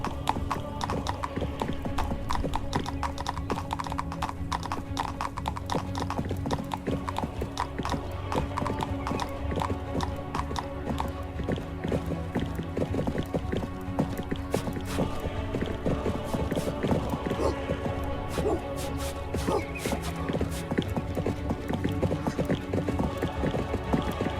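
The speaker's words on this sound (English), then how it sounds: "Hey, Straw, back into the saddles." Horses' hooves clip-clop in a steady, continuous rhythm in the video game 1428 Shadows over Silesia, close and prominent for the whole stretch, layered over a busy game soundtrack and ambience.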